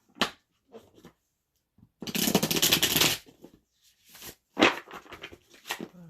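Tarot cards riffled and shuffled up close in a dense two-second burst, with softer card flicks and taps before and after.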